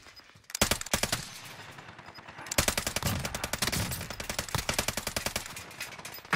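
Video game gunfire rattles in long, rapid automatic bursts, loud and close, with brief pauses between volleys and steady crackling throughout.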